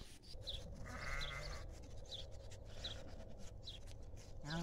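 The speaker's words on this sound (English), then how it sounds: "there's my little bottle lamb, Urban." Sheep and lambs bleat in an open pasture, giving several short, wavering calls spaced a second or so apart over a steady outdoor background. The calls sound moderately close and there is no talk.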